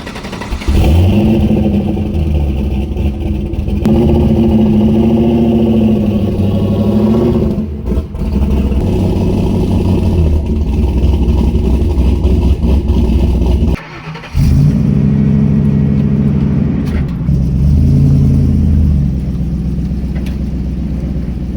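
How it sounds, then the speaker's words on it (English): A Mazda Miata engine runs and revs as the car is driven out of a garage, a loud, close mid-pitched drone rising and falling through several throttle changes, with a couple of brief dips. "let's go ahead and get this Miata out of the way real quick"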